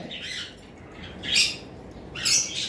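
A pair of albino lovebirds at a bird sale give three harsh, close squawks spaced about a second apart over a low background hum.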